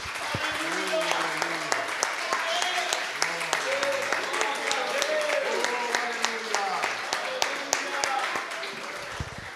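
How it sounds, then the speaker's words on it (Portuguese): Steady applause from a church congregation fills the clip, with singing or voices carrying over it and occasional sharper claps standing out. "Vamos aplaudir forte o nosso Deus."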